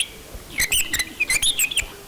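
A songbird sings a run of bright, high chirps and tweets in quick bursts with short gaps between them. It is close and clear over quiet surroundings.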